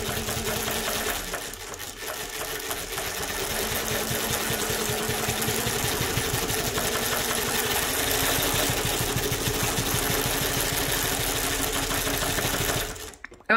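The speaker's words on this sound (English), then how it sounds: "So basically the needle goes down and up, and this entire thing spins." A Mauzer chainstitch sewing machine runs steadily while stitching, giving a continuous close mechanical whir and rapid rattle that holds for several seconds before cutting off abruptly at the end.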